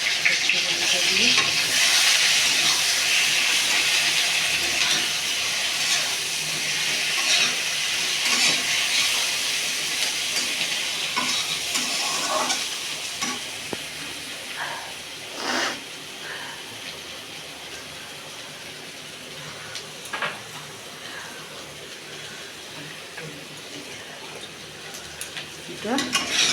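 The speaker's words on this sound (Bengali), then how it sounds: "এটা পেঁয়াজ লঙ্কাটা দিয়ে একটু ভাজবো" Onion paste and green chili frying in oil in a pan, a steady broad sizzle with occasional stirring clinks and scrapes, loud and close throughout.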